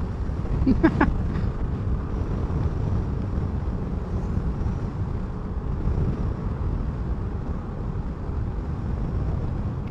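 Strong wind rushes past a Yamaha Mio 125 motorcycle on a night highway ride, a constant loud buffeting roar over engine hum for the whole stretch, with a couple of brief clicks early on.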